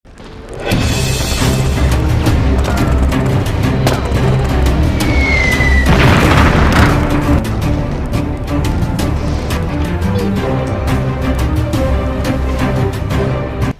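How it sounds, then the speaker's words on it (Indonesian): Gunfire and bomb explosions from a war film fill the scene: a loud, continuous battle din of dense cracking shots over a heavy rumbling bed, with one larger blast near the middle and no voices. "merangkak maju sembari menghindari hujanan peluru yang disertai bom dari serangan musuh"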